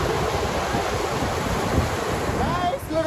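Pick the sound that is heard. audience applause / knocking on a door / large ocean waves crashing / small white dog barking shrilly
large ocean waves crashing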